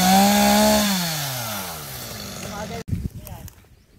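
A chainsaw cutting a large tree revs high and winds down, then cuts off, followed by a few knocks and rustles nearby.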